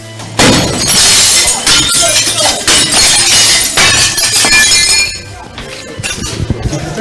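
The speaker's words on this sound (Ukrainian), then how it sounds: "а скляні двері вибивають" Glass doors get smashed during a forced entry into an office, with a long run of loud crashing, shattering and tinkling debris, then fainter crunching and scuffling.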